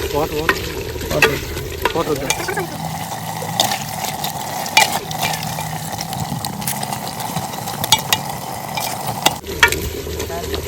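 Chicken curry being stirred in a clay pot over the fire, village style: steady scraping and sloshing of the thick mixture under a constant sizzle, with a few sharper clatters along the way.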